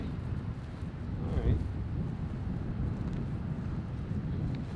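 Strong headwind buffeting the microphone outdoors on a disc golf course during a throw, a loud continuous low rumble with a brief gust swell and a voice talking faintly beneath it.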